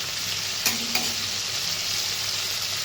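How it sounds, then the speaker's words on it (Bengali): Prawns fry in oil seasoned with salt and turmeric, a constant close sizzle with two brief sharp clinks from a utensil early on and no voices. "তো চিংড়ি মাছগুলো ভাজা ভাজা হয়ে গেছে,"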